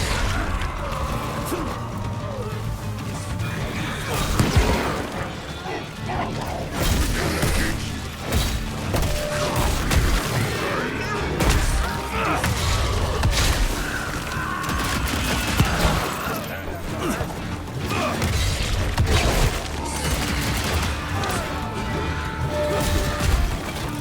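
Guns fire repeatedly against enemies in the Evil West video game, a dense, chaotic barrage of shots mixed with crashes, smashes and mechanical clatter that runs without letup over a rumbling backdrop.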